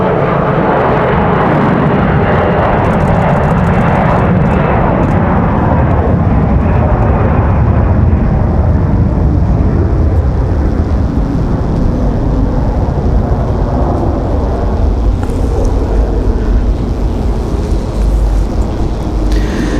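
A CRJ regional jet takes off at Raleigh-Durham airport, a sustained loud roar of engines at full thrust that rumbles steadily and shifts slightly as it climbs away, with no voices.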